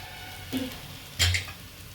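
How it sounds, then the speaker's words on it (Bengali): Pressure-cooked moong dal is poured into sabudana khichdi in a pan: two short, soft splashing bursts, the second louder and wetter, separated by quiet sizzling. "এই মুগের ডালটা একটা সিটি দেওয়া অবস্থায় এখানে ঢেলে দেবো।"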